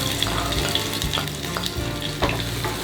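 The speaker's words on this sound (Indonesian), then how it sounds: "Kita tumis dulu bawang putih dan bawang merahnya." Garlic and shallots sautéing in hot oil, a dense continuous close sizzle with faint periodic scrapes of a spatula stirring through the pan, no talking.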